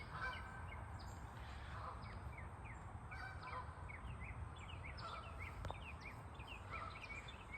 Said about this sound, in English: You can hear the geese in the back.